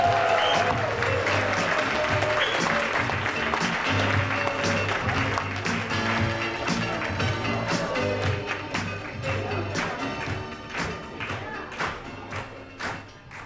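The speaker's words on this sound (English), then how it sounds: "Give them a round of applause." Audience applause fills a ballroom at a live community talent show for performers aged 50 and better, loud sustained clapping with scattered sharp claps that tapers slightly toward the end.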